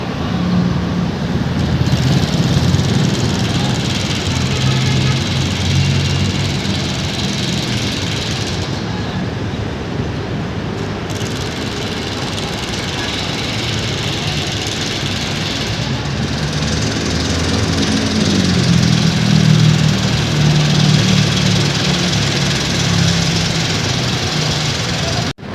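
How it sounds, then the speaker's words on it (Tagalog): Two mobile cranes run their diesel engines together at an elevated MRT-7 rail construction site while a span is installed, a steady rumbling drone throughout with someone talking over it. "Andyan yung mga mobile crane na magkatuwang."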